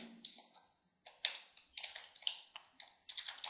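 Computer keyboard typed in short bursts of quick, crisp key clicks with brief pauses between, close and fairly quiet, while code is entered.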